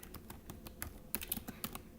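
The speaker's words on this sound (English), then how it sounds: "so you type in Netflix" Light typing on a computer keyboard at a school Chromebook, a quick irregular run of crisp key clicks, close and fairly quiet with no talking.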